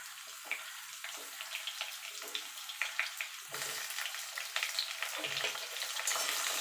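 Pumpkin pieces are tipped into a pan of frying potatoes, and the oil answers with a soft crackling sizzle that swells louder partway through, with scraping and stirring sounds layered on top.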